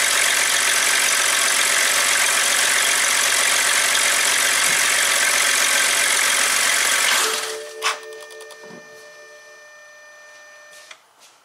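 Exhaust of a BMW 328i engine running during a secondary air injection system test for fault codes P0491/P0492, a loud steady broadband roar that cuts off abruptly partway through, leaving near silence with a few faint clicks and knocks.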